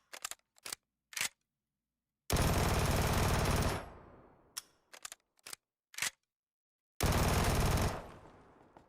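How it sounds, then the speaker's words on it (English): Gunfire in the Fallout 4 game: scattered single sharp shots, then a long sustained automatic burst that tails off, more isolated cracks, and a second long burst, loud and close with no talking. "Practicing my low shooting there"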